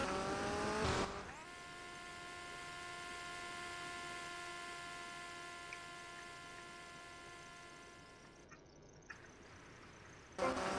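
Car engine in GTA Vice City held at a steady hum as the car builds speed toward a staircase jump, a sustained loud drone with a short break near the end.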